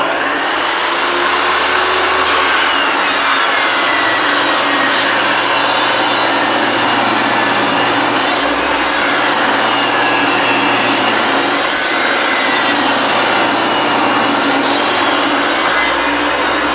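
A table saw rips a pine face frame for a paint-grade birch cabinet, giving a loud, continuous cutting roar with a steady motor drone underneath throughout.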